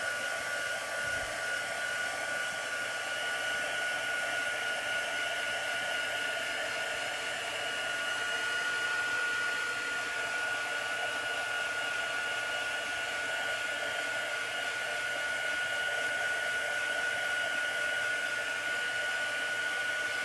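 A hair dryer blows steadily on chalk paste in a craft session, a continuous, even whir with a constant high tone, close and loud throughout with no talking.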